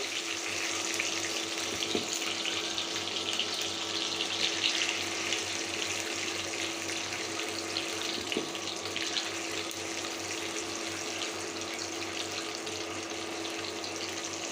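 Eggs fry in a small frying pan on a home stove, giving a steady, continuous sizzle and hiss throughout with no talking.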